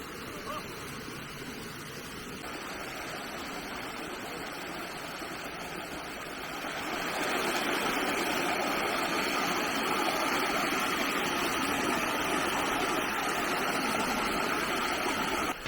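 Steady rushing roar of a waterfall at Sampoam in Gangneung, broadband and continuous, growing louder partway through as if drawing nearer, with no voices over it.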